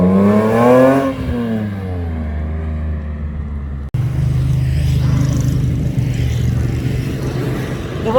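A BMW M3 E46 passes on a mountain pass road, its engine revving loudly and then dropping in pitch as it goes by, followed by a steady engine rumble of passing traffic.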